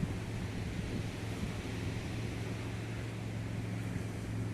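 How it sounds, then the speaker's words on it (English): Strong wind in a windstorm rushes past in a constant, loud, broadband roar with low buffeting rumble, unbroken by voices. "High winds are still blowing."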